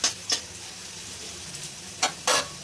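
Onion frying lightly in a pan gives a soft, steady sizzle, broken by a few sharp bursts of spatter or stirring scrapes, close and fairly quiet, with no talking.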